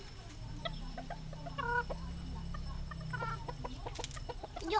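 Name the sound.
chickens clucking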